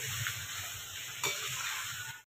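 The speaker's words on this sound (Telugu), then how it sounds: "నేను తాలింపు వేసేసుకుని స్టవ్ ఆఫ్ చేసేస్తున్నాను" Oil tempering crackles and sizzles steadily in a pan for Andhra-style gongura pachadi, a close, bright hiss with a soft stir and a small pop midway before it cuts off abruptly.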